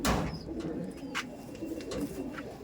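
An old Madras pigeon coos in low, soft, rolling notes close by, with a few faint sharper sounds in the background.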